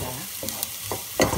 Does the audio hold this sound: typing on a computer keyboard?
no